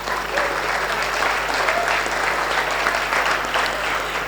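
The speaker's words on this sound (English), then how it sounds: "Let's give her a big round of applause." An audience at a cinema summit claps in sustained, dense applause, steady and loud throughout, with faint voices mixed underneath.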